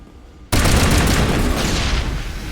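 Sudden loud eruption of gunfire in the Mass Effect game, starting abruptly after a quiet moment and staying as a dense, roaring barrage to the end.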